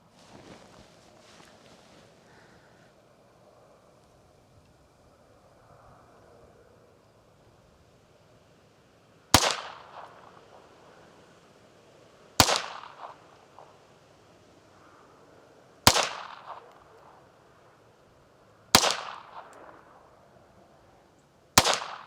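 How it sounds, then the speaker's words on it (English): A 1911 pistol fired during a timed shooting qualification: after a quiet stretch of faint ambient noise, five loud, sharp reports ring out alone, spaced roughly three seconds apart, each with a short decaying echo. "I'm gonna shoot 20 shots in a time limit of 120 seconds"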